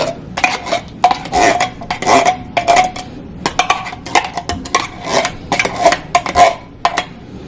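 A metal pot or pan clanks and clinks repeatedly while being handled and set in place in a home kitchen during chicken and rice baking prep, with irregular bursts of close, fairly loud metallic knocks.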